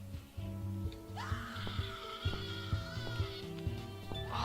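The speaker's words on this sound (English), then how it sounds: "Oh, that's screaming!" A faint, drawn-out scream from The Cat Lady video game rises and wavers for a couple of seconds over a low, droning ambient backdrop with occasional soft clicks.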